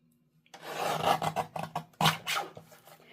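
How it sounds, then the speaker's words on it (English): Paper being trimmed, a thin sliver cut from a papercraft layer for a Halloween haunted mansion card, heard as a few close, dry rasping scrapes in short bursts, with no voice. "So I'm trimming from this one just a sliver, just a little bit."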